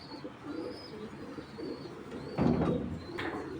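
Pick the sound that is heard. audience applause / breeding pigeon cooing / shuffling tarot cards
breeding pigeon cooing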